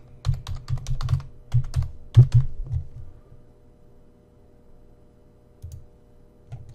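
Keys tapped on a computer keyboard in short uneven bursts of clicks during an online re-certification process, close and fairly quiet, trailing off into near silence with a couple of isolated taps near the end.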